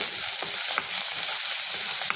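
Capsicum and moong dry curry being stirred in a frying pan, with a soft steady sizzle and a few scraping strokes of the spoon against the pan, close and with no talk.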